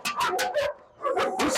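Dogs on a farm barking and yipping in quick, loud bursts close by, with a brief pause before a second run of barks.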